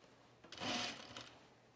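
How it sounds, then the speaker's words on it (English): A home sewing machine running low on bobbin thread, one short quiet whirring burst of stitching that rises and fades within about a second. "It just sounds like I'm running out of bobbin."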